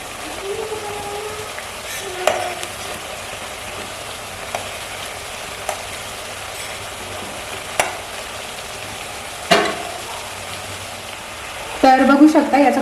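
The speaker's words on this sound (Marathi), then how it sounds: "त्याच्यासाठी मस्त कमी गॅसवरती ना त्याला फ्राय करून घ्यायचं आहे" Rice chakli fries in hot oil over a medium gas flame, a soft steady sizzle with occasional faint clicks of utensils and a louder bubbling burst near the end, while someone talks over it.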